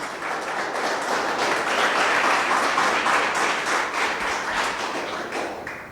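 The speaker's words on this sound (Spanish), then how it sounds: "Le da un aplauso al Señor, por favor." A church congregation claps in praise to the Lord, with a swelling wave of many hands applauding, peaking midway and then gradually easing off, moderately loud in the room.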